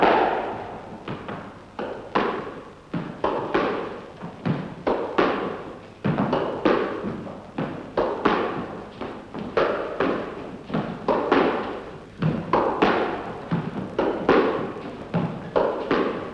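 A squash ball is struck against the front wall in a two-player alternate-shot drill, a rapid, rhythmic series of loud thuds and smacks echoing around the court, steady throughout.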